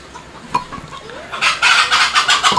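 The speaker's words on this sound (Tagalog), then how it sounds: "ang ingay itong manok na to" A rooster clucks a few times, then crows loudly and close by in a rising, rhythmic call that fills the last second.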